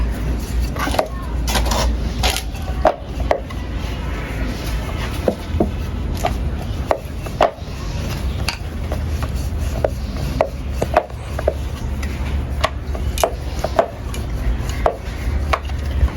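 Atta dough for homemade pasta is worked under a rolling pin on a board, giving steady rubbing strokes punctuated by frequent sharp knocks and taps over a constant low background hum.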